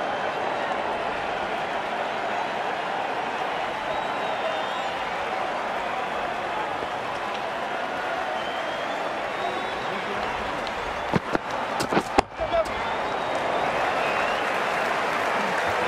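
Cricket crowd at a 2019 World Cup match between Sri Lanka and the West Indies, a steady wash of applause and cheering throughout, with a few sharp louder bursts near the end.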